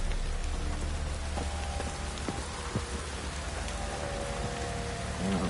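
Steady rain patters on surfaces in The Witcher 3 Wild Hunt, a dense continuous hiss with scattered drops and faint tonal game sounds beneath, no speech.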